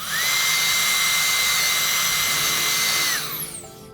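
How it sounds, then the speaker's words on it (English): A handheld hair dryer blows steadily and loudly on a section of blonde hair for about three seconds with an even whine, then powers down, its pitch sliding away as it winds off. "Comb, blow dry section down."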